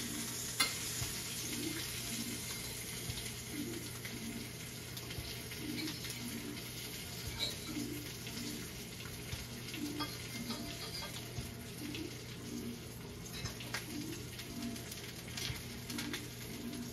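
Sausage sizzles steadily in a frying pan, a continuous close crackle with faint scraping and stirring, lasting throughout with no one talking.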